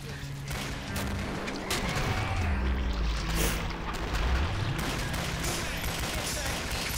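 Gunfire and explosive blasts in the Killing Floor video game, with a grenade going off amid a continuous dense barrage of shots and booms, loud and busy throughout, with low rumbling tones sweeping beneath.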